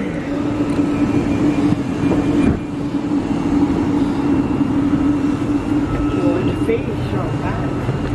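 Inside a passenger train from Dumbarton Central bound for Edinburgh Waverley, a steady low rumble and hum of the carriage in motion runs throughout, loud and continuous, with a faint tonal whine and occasional thumps.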